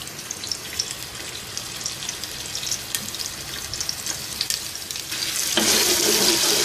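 Ginger garlic paste frying in oil in a pan over a medium flame, a continuous close hissing sizzle that swells louder and brighter toward the end.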